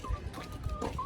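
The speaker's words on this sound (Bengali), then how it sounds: "আমি জীবনে প্রথম দেখছি এই মুরগিটা" A chicken kept on a rooftop clucks and squawks in short, close bursts over a low background rumble, with a few quick calls coming in clipped succession.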